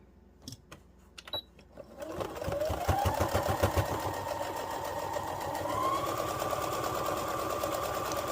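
A domestic sewing machine back stitching fabric for a pumpkin gnome craft, its needle clattering in a fast, steady mechanical run that starts after a few light clicks and continues close and loud to the end.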